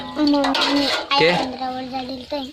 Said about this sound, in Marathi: लगेच भांडी घसायला लागली